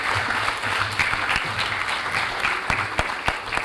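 An audience of conference delegates applauds steadily, a dense even patter of many hands clapping at moderate volume with a few sharper louder claps standing out near the end.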